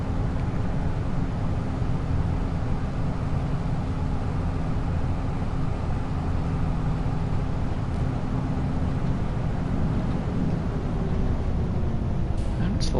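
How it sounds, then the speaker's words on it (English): A tractor in Farming Simulator 25 driving at high speed, over 60 miles an hour, through thick fog, giving a steady, loud, broadband engine and road rumble that holds constant throughout with no pauses. "this tractor will absolutely do over 60 miles an hour"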